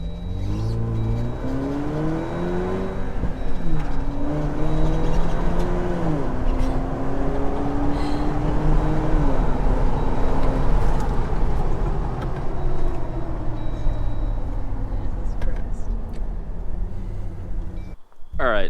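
A 2.0-liter turbo four-cylinder Jeep JL Wrangler on mud tires with a Borla Climber exhaust revs and pulls away, its engine note climbing and dropping through several throttle blips, loud and close, before a brief break at the end.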